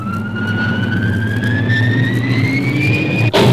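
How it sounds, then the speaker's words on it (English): A gyroscope-stabilizing sound effect on an early-1960s children's rocket record, a loud steady electronic whine that rises slowly in pitch over a low hum, then breaks into a short burst of noise at the end. "Now check out the gyros that will stabilize your ship in flight."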